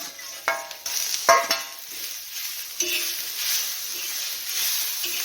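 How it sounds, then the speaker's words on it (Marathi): Masala being roasted in a pan for a bombil (Bombay duck) rassa curry, a steady soft sizzle broken by scrapes and clinks of a spoon stirring against the metal. "तर अशा प्रकारे सर्व मसाला आपण भाजून घेत आहोत"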